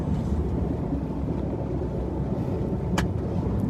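A truck driving on the road, heard as a continuous low engine and road rumble from inside, steady and fairly loud, with a brief sharp click near the end.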